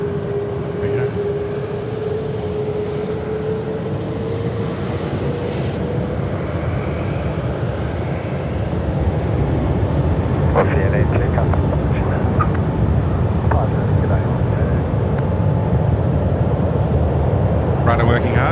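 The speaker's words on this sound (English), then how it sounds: "Qantas 11 now cleared for takeoff. The A380." A Qantas Airbus A380 takes off at night at Sydney Airport, its jet engines roaring steadily and swelling louder midway, with people talking over the noise.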